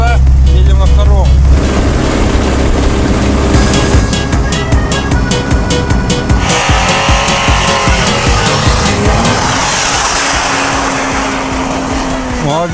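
A Lada Niva without a hood drives off-road through ruts on a dacha rally, its engine loud and close, revving up and down with rattling and strain as people talk over it.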